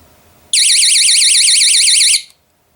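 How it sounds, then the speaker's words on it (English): A cheap magnetic perimeter alarm triggers, a shrill warbling electronic tone blaring loud and close for about a second and a half, then cutting off abruptly into silence. "the alarm goes off"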